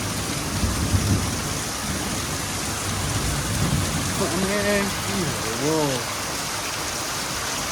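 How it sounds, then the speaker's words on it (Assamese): A heavy morning rain shower pours down in a dense, continuous hiss, and a person speaks briefly over it. "দি দিল একদম ডাঙৰ একজাক বৰষুণ"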